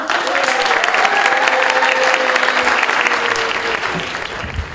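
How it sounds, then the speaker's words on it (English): An audience gives a big round of applause for a prize winner at an award ceremony, with sustained, full clapping under a faint voice that slowly eases near the end. "Big round of applause."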